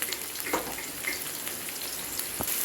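Chopped onion hitting hot oil in a home kitchen pan, giving a steady close sizzle with crackling bursts and a few sharper pops, heard alone without talk.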